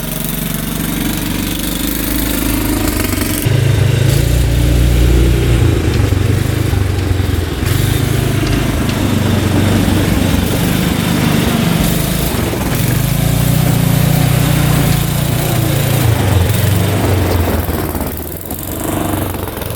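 A rare 1960s hydraulic 6x6 amphibious Scrambler tank, long unused, churning through a deep sandbank in a yard, its engine a loud, steady, rough mid-pitched drone that surges and strains throughout, with no voices.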